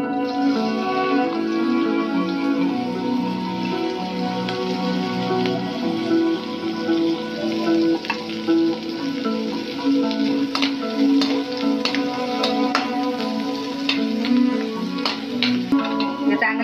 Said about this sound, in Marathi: फोडणीसाठी मी आता मिरच्या बारीक केलेल्या आहेत त्या घालते